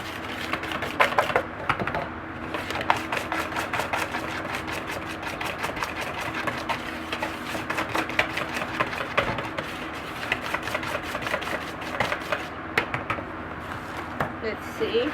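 A whisk beats a bath fizzy mixture in a bowl, giving quick, rapid rhythmic clicking and tapping that keeps up steadily at close range, with a faint hum underneath.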